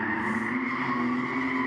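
BMW E46 coupes drift at a grassroots drifting competition at Agassiz Speedway, making a sustained, loud tire squeal over engine roar that holds steady for the whole short stretch.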